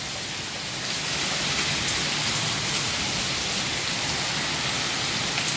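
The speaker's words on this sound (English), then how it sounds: "the rain is coming down in sheets" Heavy rain from Tropical Storm Isaias coming ashore in North Carolina, a loud, dense, steady hiss of downpour that swells after the first second and holds without a break.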